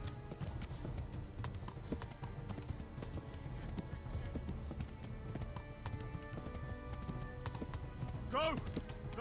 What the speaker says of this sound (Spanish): Como el caballo le dé por dejar de correr